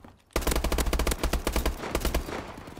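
Rapid automatic gunfire in a first-person shooter video game, a loud burst of closely spaced shots that starts abruptly after a brief quiet moment and keeps going with small gaps, no speech over it.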